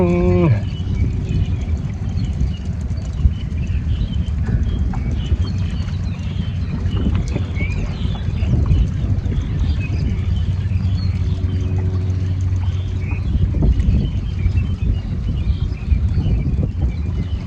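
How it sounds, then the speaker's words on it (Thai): Strong wind buffets the microphone at an outdoor spot fishing for yellow catfish, making a steady, loud roar and rumble that lasts the whole time, with no clear voices. "ลมก็แรง"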